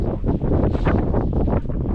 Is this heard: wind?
yes